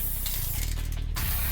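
An aerosol spray paint can hisses in a loud, steady burst for graffiti outdoors, a close continuous spray lasting about a second with a short break near the end.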